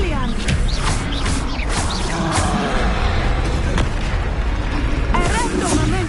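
Spell effects from a Harry Potter video game, a dense layered wash of magical whooshes, booms and shimmering tones filling the whole stretch loudly, with a voice calling out spell names.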